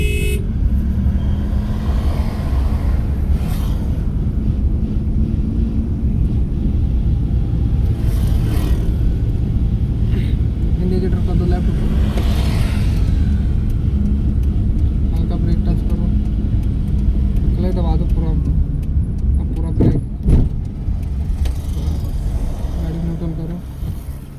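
A car's engine runs steadily through a driving lesson as the vehicle is slowly steered and eased off the brake, a constant low rumble with a few distant horn toots and an instructor talking over it.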